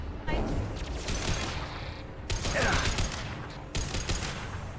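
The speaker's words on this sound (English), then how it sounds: "That pulse rifle is great." Pulse rifle fire in the video game Mass Effect, a dense crackle of rapid shots in sustained bursts with brief breaks, moderately loud amid battle noise and a voice speaking.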